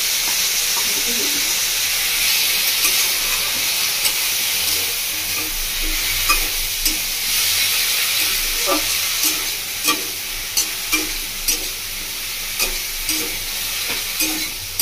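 Chopped ginger sizzles and fries in a pan for Bengali village-style masala bhindi, a steady close hiss with rhythmic scraping and stirring clicks of a spatula running throughout.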